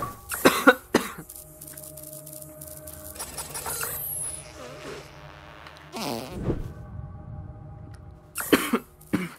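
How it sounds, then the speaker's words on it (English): A person coughs several times in sharp, close bursts while playing South Park: The Stick of Truth. Soft game sounds run quietly underneath, and a final cluster of coughs comes near the end. "Sorry about my cough, guys."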